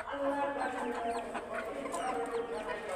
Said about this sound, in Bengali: দেখেন এই পাহাড়ি মুরগিগুলো